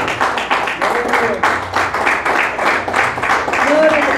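A church congregation claps along in a steady, rhythmic beat, fairly loud and close, with voices and singing mixed in throughout.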